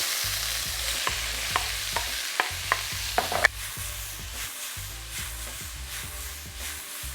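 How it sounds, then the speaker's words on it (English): Chicken, vegetables and spring onions stir-frying in hot oil for yaki soba noodles, a constant sizzle punctuated by regular scraping stirs and tosses of the pan, close up with no talking. "Remember, we're frying this at such a high temperature."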